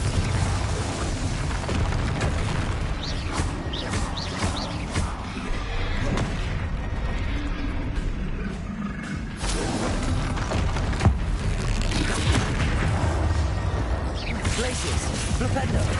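Spell effects in Hogwarts Legacy on PS5, Glacius, Confringo, Bombarda and Flipendo cast in rapid succession, giving a dense, continuous stream of whooshes, crackles and bursts with a brief lull midway. A voice calls out spell names throughout.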